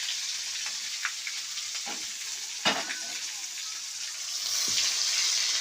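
Steady sizzling of brinjal frying in a kadhai over a wood-fired stove, with a few soft clinks and stirring scrapes over the constant hiss.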